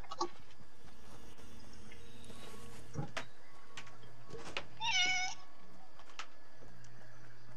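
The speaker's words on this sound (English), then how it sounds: "The rescue kitty." A rescue kitten meows once, a short clear cry a little after the middle, amid a quiet room with faint ticks and low background hum.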